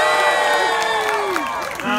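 A live show crowd cheers and whoops, rising and falling shouts and whistles over a sustained roar of noise.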